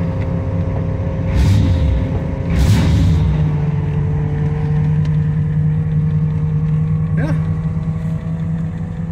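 A small-block Chevy 383 stroker V8 starts and settles into a steady, loud idle close by, with a sharp catch and rev at the start and a second blip before the engine runs evenly.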